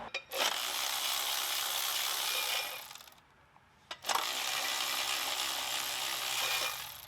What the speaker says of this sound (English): We're going to spin the bolts out, unbolt the converter bolts,